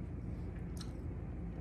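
Seasoned french fries being chewed close up, a soft, faint, steady mastication with one brief crisp crunch partway through and no talking.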